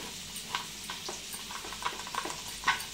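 Onion dropped into a hot pan for an aloo baingan sabzi, giving a soft sizzle with a few light stirring clicks, faint and close, with no voices.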